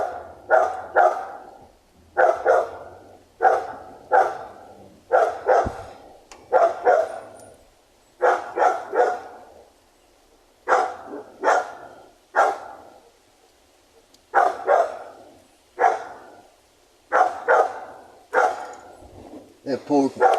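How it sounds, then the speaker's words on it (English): A female blue pit bull barks in short, loud bursts of several yips each, repeating at a steady rhythm close by with quiet gaps between volleys. "That's a beautiful blue pit bull female."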